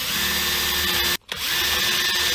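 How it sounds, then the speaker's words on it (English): Power drill boring holes into a Les Paul guitar body, a loud, steady whine running continuously with one brief pause in the middle before spinning back up. "I have 2 marks right here for where I can drill"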